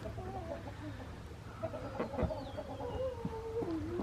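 Chickens on a small farm cluck close by in short, broken bursts, with several birds overlapping against a low background hum and the occasional thump.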